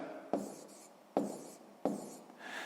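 Pen or marker writing numbers while working a sixth-grade maths problem: three brisk strokes, each starting with a sharp tap and trailing into a soft scratch, close and quiet with no voices.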